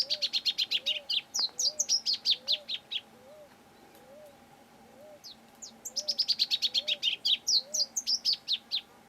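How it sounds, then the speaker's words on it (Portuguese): A pia-cobra gives its territorial call, repeating a rapid, rhythmic series of high chirping notes in two long bouts, with a soft lower cooing note pulsing steadily underneath. "um som que o pia-cobra faz com mais frequência é um chamado territorial"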